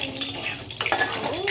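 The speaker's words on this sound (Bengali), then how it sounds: "আর দেবো একটু শুকনো লঙ্কা" Dried red chilies and panch phoron go into hot oil in a pan, giving a quick sizzle along with scraping stirs and clinks of a utensil against the metal.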